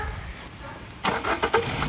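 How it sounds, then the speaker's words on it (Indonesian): A 2011 Daihatsu Sirion starts up after a second of quiet, cranking briefly and catching into a steady, smooth idle, close by and moderately loud. "Suara mesin juga halus."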